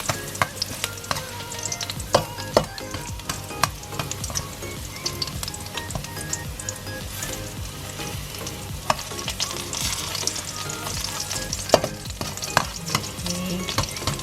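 Onions frying in a pan of hot oil for Filipino pork menudo, a steady close sizzle with frequent scraping and stirring clatter throughout, no talking.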